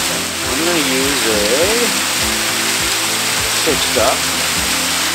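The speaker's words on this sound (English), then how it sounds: "It's a famous waterfall here at Lake Willoughby." Famous waterfall at Lake Willoughby, a constant broad roar of rushing water filling the scene, with someone speaking briefly over it.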